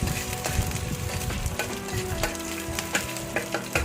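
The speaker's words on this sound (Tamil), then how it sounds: "கருவேப்பிலை 1 கொத்து போட்டு நல்லா வதக்கி விட்டுக்கோங்க" A sprig of curry leaves and dried red chillies sautéing in hot oil for a banana stem rasam, crackling loudly and continuously with busy stirring scrapes close by, no talking.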